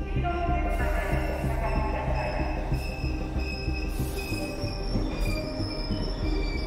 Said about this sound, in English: Train must be coming soon.